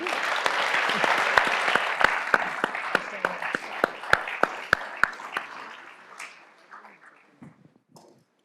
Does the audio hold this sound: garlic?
no